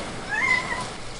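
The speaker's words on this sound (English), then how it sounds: "That's a cat." A cat gives a single clear meow, rising and falling in the middle of a short stretch with faint background noise and no talking.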